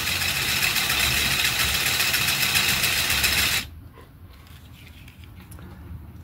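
A 1928 Meccano model traction engine running in its fast gear gives a rapid, steady mechanical whir and patter for about three and a half seconds, then stops abruptly, leaving quiet room tone.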